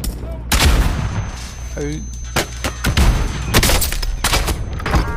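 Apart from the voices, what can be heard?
gunfire in a video game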